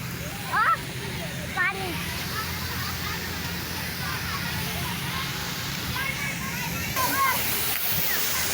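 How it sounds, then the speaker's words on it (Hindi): A rushing waterfall in a park with children bathing, a steady loud roar and slosh of falling water, with distant shrieks of children playing over it. "बहुत ही खूबसूरत आबशार है"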